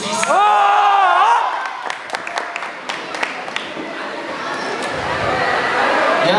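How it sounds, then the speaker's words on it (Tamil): A crowd at a Tamil stage event cheers and claps loudly, starting with a strong burst and then settling into scattered, sustained applause and chatter. "ஒரு ஓ போட்டு கை தட்டுங்க ப்ளீஸ்."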